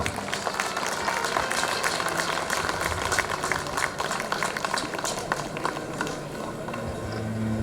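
An audience claps steadily for about eight seconds at a school alumni nostalgia day. The applause is dense and continuous, with the crackle of many hands mixed together, and it fades slightly near the end.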